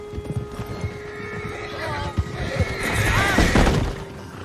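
A horse in Red Dead Redemption II lets out a loud, close whinny after a few hoof clops, with characters' voices talking around it.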